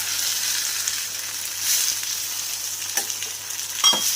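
Cashews and tomatoes fry in a pan for butter chicken, giving a continuous near sizzle with occasional stirring scrapes and a few sharper clicks toward the end.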